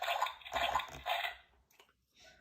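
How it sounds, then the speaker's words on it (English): A cartoon dog dad jumps into a great big puddle, giving a burst of wet, splashy squelching for about a second and a half, followed by a few small drips and a softer trailing splash. "Daddy jumps in a great big puddle."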